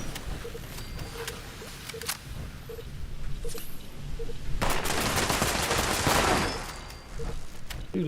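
A gun fires in Fallout 76 combat, first spaced single sharp shots at a steady rhythm, then a loud sustained burst of rapid automatic fire before easing off, with distant game ambience behind.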